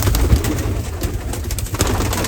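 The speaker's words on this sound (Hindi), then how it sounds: "ये जो वाइट वाला कबूतर है इसके अंडे हैं या वो ब्लैक वाले के हैं" Pigeons, white and black birds kept at a nesting spot, give soft repeated low cooing close by with no talking over it, several coos in steady succession.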